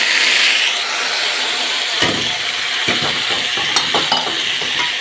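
Garlic and dill fry in a pan for a potato dish, giving a loud steady sizzle with a few scraping stirs and clinks partway through, no voices.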